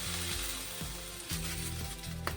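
Water sprinkled onto a hot dosa tawa sizzles and crackles steadily and close by, with no talk.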